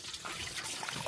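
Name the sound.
pongal pot boiling over on the fire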